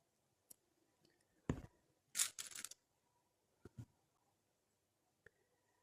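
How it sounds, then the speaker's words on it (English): Scissors snipping knitted superwash sweater yarn in a quiet room, a few sharp close cuts in quick bursts separated by pauses. "So I will just snip here."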